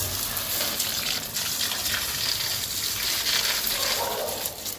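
Rain falls on potted plants on a sheltered balcony as a steady, fairly close hiss of water with no pauses.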